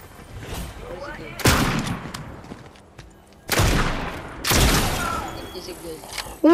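Shotgun blasts from the video game Fortnite crack out loud and close, three or four heavy booming shots spaced a second or two apart, each with a sharp attack and a decaying tail, over low background game noise.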